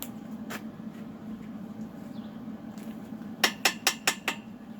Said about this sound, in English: What I'm doing right now is lining up the tubing with the square plates